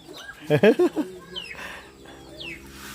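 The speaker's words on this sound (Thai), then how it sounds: "ไก่ลายนี้นี่นะ" A barred chicken clucks in a quick burst of four or five close calls near the start, then fainter calls and rustling carry on in the background.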